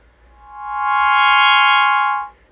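A synthesizer chord sustained with unchanging pitch and tone, no oscillator drift, swelling in and fading out over about two seconds, alone with no talk.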